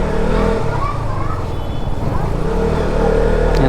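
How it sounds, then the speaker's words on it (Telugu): A modified KTM Duke motorcycle engine rumbles close by with a low, steady, throbbing idle, under a voice. "బండి గుడుగుడు అంటుంది."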